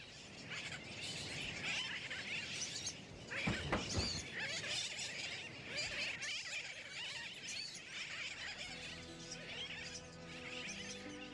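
A dense colony of terns, migratory seabirds at a Martinique sanctuary, calls continuously in a loud, overlapping chorus of shrill cries that fills the scene from start to finish.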